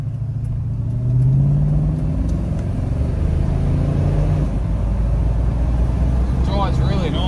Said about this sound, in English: we're in the XB Coupe going for a cruise